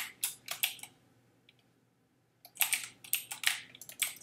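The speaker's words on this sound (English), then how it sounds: "this keyboard is a lot more clicky than the other one I have" Quick bursts of key presses on a clicky light-up computer keyboard during a game, sharp and close, in two rapid flurries separated by a short quiet pause.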